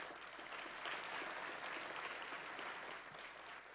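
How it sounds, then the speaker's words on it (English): A ceremony audience gives a round of applause for the alumni board chair, a steady wash of many hands clapping, fairly distant and even in level throughout. "would you please give a big round of applause for the board chair, Mr. Scott Eisenhower"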